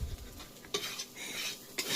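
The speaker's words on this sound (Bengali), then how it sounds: "ডিম আজকে হালকা করে ভাজা" An egg fries lightly in a pan, a soft sizzle broken by a couple of sharp scrapes of a utensil stirring against the metal.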